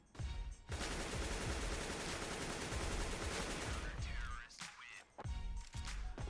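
Rapid, dense automatic gunfire sprayed through a wall in CS:GO on the Nuke map, with continuous loud bursts and brief pauses and sharp breaks between volleys, heard alone without talk.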